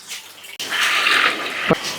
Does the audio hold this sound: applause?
no